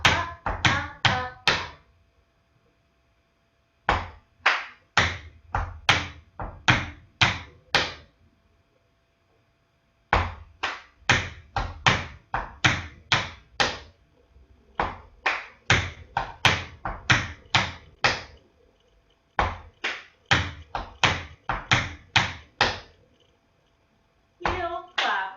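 Tap dance heel steps, toe taps and claps in rapid crisp bursts, phrased in repeated groups separated by short pauses, close and loud with no talking over them.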